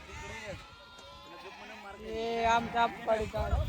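Sheep bleat repeatedly while a flock is being vaccinated by needle, several close wavering cries rising over crowd noise, with someone talking in the background.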